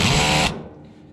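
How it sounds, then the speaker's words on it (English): A power drill set to screw mode driving a screw during sickle replacement on a John Deere 1209, a loud close whir that cuts off abruptly after half a second and leaves a fading low rumble. "I put my drill on screw mode"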